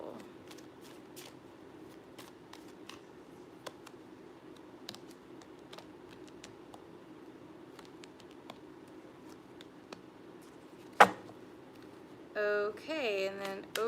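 Tarot cards are shuffled quietly up close, soft scattered taps and riffles repeating irregularly with one sharper snap near the end, followed by a brief voice.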